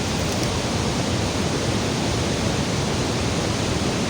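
A mountain stream rushes in a broad, unbroken roar, loud and close, with no voices or other sounds over it.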